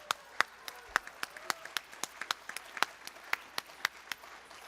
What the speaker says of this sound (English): please let's raise to our feet and applaud our